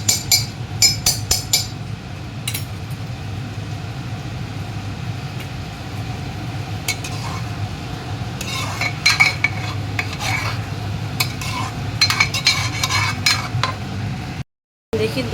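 Butter chicken masala simmering on a low flame with a spoonful of butter, giving a steady soft sizzle with occasional clinks of a spoon or utensil against the pan, close by and without talk.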